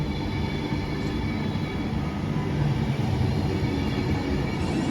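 A Class 390 electric train passes through a station without stopping, a steady loud rolling rumble with a faint high whine running through it.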